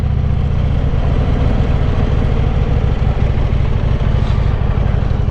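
A Harley-Davidson Road King fitted with a Tilting Motor Works conversion runs steadily at close range, its deep, even engine rumble loud and constant throughout with no talk over it.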